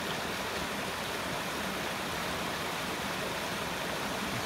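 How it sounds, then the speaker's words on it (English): Rushing water of a stream feeding a river below falls at DeSoto State Park on Lookout Mountain, a steady loud broadband roar with no breaks, close and continuous. "All the rushing water."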